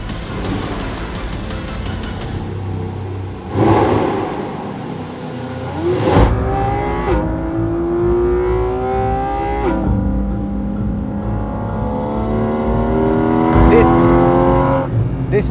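A Porsche 718 GT4 RS accelerates hard along a tight, technical road, its engine revving up through rising pitch sweeps with sharp gear changes, loud and close throughout.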